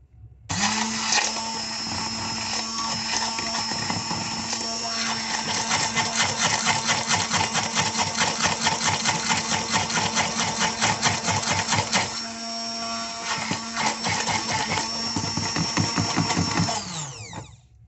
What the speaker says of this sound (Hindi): इसीलिए हम लोग सबसे पहले इसको ब्लेंड करेंगे